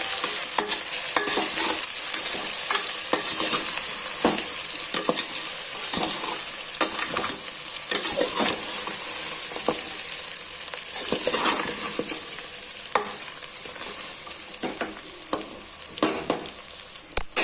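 A pan of pottelu thalakaya curry with chili powder is stirred steadily, producing a constant frying hiss with repeated scraping and clattering strokes of the spoon against the pan throughout.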